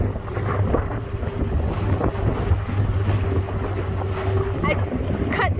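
A small tin boat motors across rough Pacific Ocean water near Victoria, B.C., Canada, with a steady engine drone, slapping waves and heavy wind buffeting the microphone throughout.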